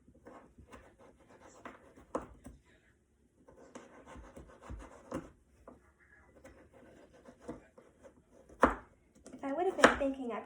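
A knife chops butternut squash for soup on a cutting board, giving uneven bursts of scraping and thudding cuts close by, with a person talking at intervals.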